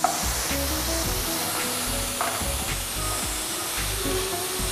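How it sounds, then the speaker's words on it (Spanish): Onion and carrot fry in hot oil, a dense, steady sizzle with crackling bursts, close and continuous throughout. "lo voy a freír un poco acá en el aceite"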